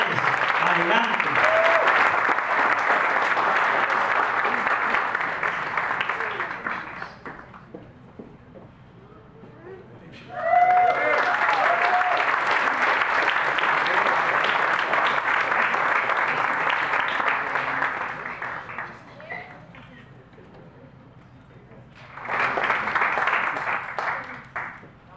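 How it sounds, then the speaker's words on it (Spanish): A church congregation applauding at a Bible institute graduation, long waves of sustained clapping that swell, fade, then return in three bursts, with some voices and cheers mixed in. "Un aplauso a Dios."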